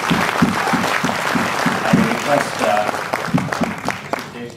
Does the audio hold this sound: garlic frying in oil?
no